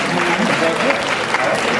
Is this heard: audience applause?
yes